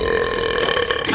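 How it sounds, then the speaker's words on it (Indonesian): One loud, drawn-out burp rumbles close to the ear for about a second, with no other sound around it. "Oh tidak, aku akan bersendawa."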